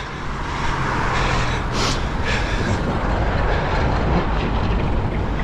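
A freight train of tiny boxcars rolls past in Japan, a steady loud rumble and rattle of wheels on rails with a broad roar throughout, no voices over it.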